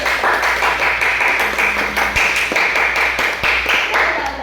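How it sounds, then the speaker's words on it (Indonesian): Students in an elementary science micro-teaching lesson on the human digestive system clap for a classmate, a loud, close round of applause with scattered sharp individual claps, continuing without talk for several seconds. "tepuk tangan untuk Abdil"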